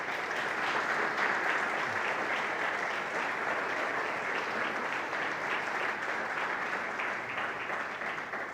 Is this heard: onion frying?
no